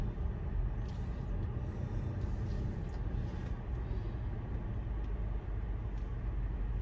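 Steady rumbling cabin noise inside a car driving along, a continuous low road and engine drone with a few faint higher squeaks and no voices.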